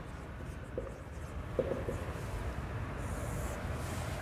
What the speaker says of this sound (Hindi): यहाँ लिख रहा हूँ मैं